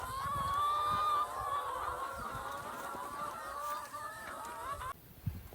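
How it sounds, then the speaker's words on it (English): Chooks cluck and chatter steadily at close range while pecking about on fresh grass during morning farm chores, with a sudden change in the surroundings near the end. "I've just got to round up these remaining chooks and show them where the new spot is."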